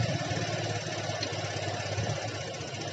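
A Honda Vario 125 FI fuel-injected scooter engine idles steadily close by, a continuous low throbbing hum with a faint knocking pulse, holding even throughout with no revving.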